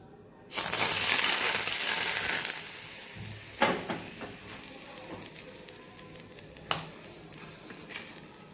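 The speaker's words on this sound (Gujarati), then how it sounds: "અહીંયા ધુવાળા નીકળે એવું ગરમ તેલ થઈ ગયું છે તો હવે આપણે જે બધું તૈયાર કરીને રાખેલું છે એની ઉપર આપણે આ તેલને ઉમેરવાનું છે" Smoking-hot oil poured over prepared peanut, onion and tomato ingredients for a Kathiyawadi chutney, bursting into a loud sizzle that slowly fades, with a few sharp clinks of utensils afterward.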